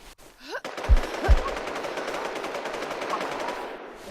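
Gunfire in the video game Survivalz: two heavy low shots, then a dense sustained rattle of automatic fire under a constant noisy game backdrop.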